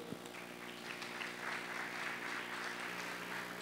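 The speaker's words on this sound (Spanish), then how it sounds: "Un fuerte aplauso" Faint audience applause at a business pitch marathon event, a soft steady wash of clapping from a distant crowd with no talking over it.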